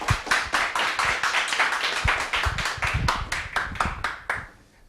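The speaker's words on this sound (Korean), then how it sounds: "박수 부탁드립니다." An audience at a Korean accounting-exam academy information session claps for a few seconds. The hand claps are distinct and fairly sparse, and they thin out and fade at the end.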